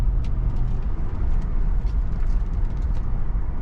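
An old Ford F100 truck with a Crown Victoria drivetrain swap rumbles along on a test drive, its low engine and road noise steady and close from inside the cab.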